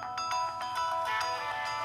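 A phone ringtone repeats in bright, evenly spaced tonal pulses, fairly quiet but steady throughout with no talking over it.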